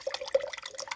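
Water splashes and trickles in brief, faint bursts as paint is rinsed off a wagon insert.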